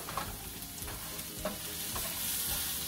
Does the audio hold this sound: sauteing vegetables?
yes